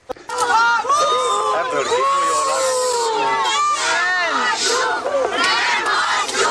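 A large protesting crowd shouting and yelling together against a planned dam, loud and continuous, many overlapping voices raised in angry chant-like cries.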